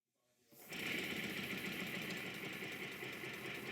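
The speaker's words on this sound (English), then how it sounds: "the engine seems to run quite well once again" A model steam engine starts up after its return cranks have been adjusted, then runs in a fast, steady chuffing rhythm. The sound comes from close by and stays even once it is running.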